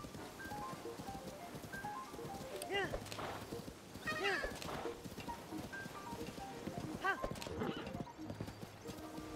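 Horse hooves clip-clop in a steady rhythm at low volume in the video game The Legend of Zelda: Tears of the Kingdom, with a few brief whinnies rising above the hoofbeats.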